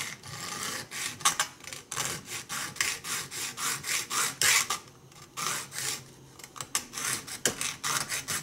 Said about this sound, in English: And then I'm just going to use a hacksaw.